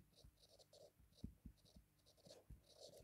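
Chalk or a pen on a board during an accounting lesson: faint, close scratchy strokes with soft taps in short irregular bursts, quiet overall.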